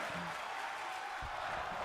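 Wrestling arena crowd in the WWE 2K24 video game, a steady wall of cheering and applause filling the whole stretch at even loudness, with a few faint low thumps underneath.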